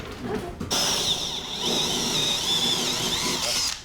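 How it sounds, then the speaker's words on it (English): A power drill bores a hole into a wooden table in a shed, a steady high-pitched whine holding for several seconds after a brief start, close and loud with no voices over it. "We're going to drill a hole, and then James is going to chisel a square"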